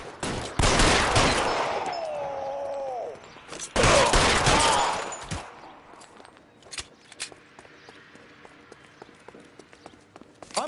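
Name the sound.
gunfire in L.A. Noire video game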